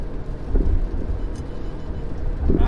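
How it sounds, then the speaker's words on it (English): Small pea- to penny-sized hail drums on a car roof during a storm, a dense, loud, continuous clatter with heavier low thumps mixed in throughout. "it was only like little pea or like penny-sized hail. But even that stuff is just loud on the car roof."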